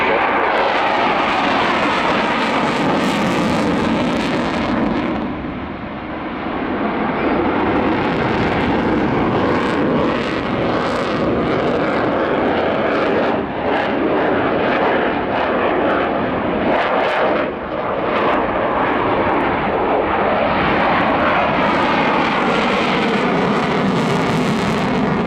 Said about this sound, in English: the engine's working incredibly hard to suck hundreds of litres of air into it